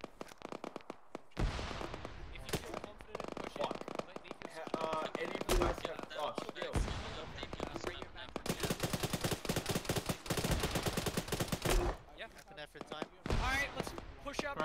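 Gunfire and grenade-launcher blasts from the video game ARMA 3, with repeated sharp shots and bursts of automatic fire rattling close by and players talking over the combat.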